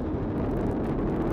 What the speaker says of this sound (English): All four RS-25 engines on the core stage and two solid rocket boosters now propelling the vehicle at 128 miles